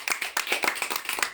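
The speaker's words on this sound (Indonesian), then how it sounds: "Tepuk tangan, sekali lagi tepuk tangan." A classroom of students clap their hands together in a quick, uneven burst of close, moderately loud claps lasting just over a second.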